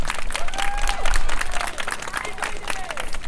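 An audience claps steadily at a live talk, a dense patter of hands running the whole time, with a speaking voice carrying over the applause.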